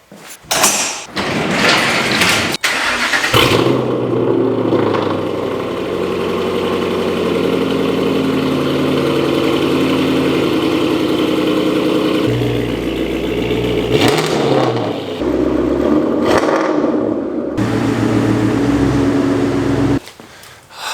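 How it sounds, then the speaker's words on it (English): A loud car engine cranks and fires up, then settles into a deep, rumbling idle with a couple of throttle blips before cutting off. "Sometimes I forget just how ridiculously loud this car is."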